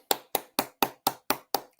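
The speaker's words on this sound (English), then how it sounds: "Okay, Most High in Christ, let's clap it up." Eight crisp, evenly spaced claps in a quick steady rhythm, close and clear, each ringing briefly before the next, with no voices.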